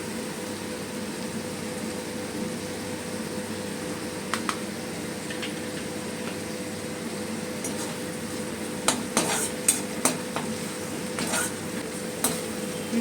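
Tomato, chilli and ginger pastes sizzling in oil for a vegetarian aloo dum, a soft continuous fry under intermittent sharp clinks of a spoon against the pan.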